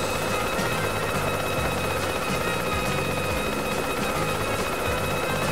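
Helicopter flying in the video game Yooka-Laylee, a steady droning rotor chop with a constant engine whine, loud and unbroken with no talk over it.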